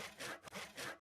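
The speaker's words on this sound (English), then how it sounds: "Move the saw backwards and forwards a few times to cut off the excess EMT." A hand saw cuts through excess EMT conduit in three quick back-and-forth strokes, each a loud raspy rub with a brief break between them.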